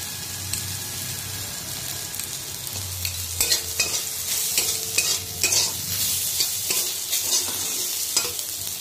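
Chili powder frying and being stirred in a pan, a steady close sizzle with scraping stir strokes growing busier partway through.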